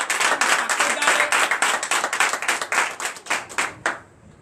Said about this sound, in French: Donc je vous demande d'applaudir encore très fort